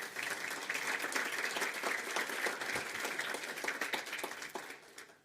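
A crowd at a political congress claps steadily, broad even applause holding throughout and tapering off briefly at the end, with no voices over it.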